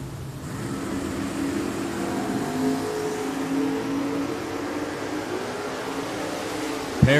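A 1977 Nova and a Pontiac Firebird drag racing at Richmond Dragway, a continuous roaring engine drone held at a steady level, ending with a short thump.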